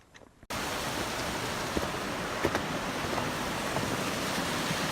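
Fish Creek Falls, a waterfall, gives a steady dense roar of rushing water that sets in abruptly after a brief quiet start and holds loud and even.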